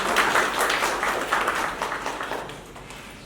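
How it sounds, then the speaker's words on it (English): Audience at a mentorship workshop applauding the session's conductor, a dense, fairly loud wash of clapping from many hands that slowly fades over a few seconds. "good applause for the way you conducted"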